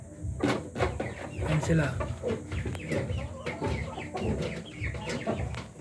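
Year-old Rhode Island Red breeder hens cluck in a cage in a steady, close, busy chatter, with someone talking over them throughout.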